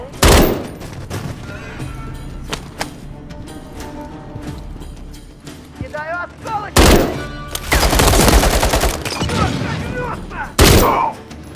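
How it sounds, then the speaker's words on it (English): Enemy gunfire in the Call of Duty MW3 campaign at a harbor office: rapid automatic bursts and fusillades, loud and close, including sustained heavy volleys around the middle and end, with game music and effects underneath. "There's enemy fire!"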